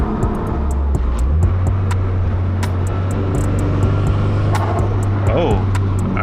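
Turbocharged Nissan Silvia S15 running steadily inside the cabin on a drive in Vancouver, a constant low drone with sharp whooshing turbo spool and flutter bursts, voices talking over it.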